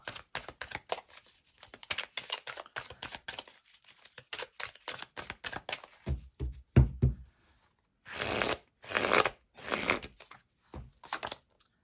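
Tarot cards being shuffled by hand, a quick papery riffle and flutter of many small bursts, then a few longer swishing passes, close and fairly quiet with no talking.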